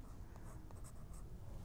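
Soft, steady scratching of a 2B graphite pencil drawing and shading on paper, a close continuous rasp with faint stroke pulses throughout and no talking.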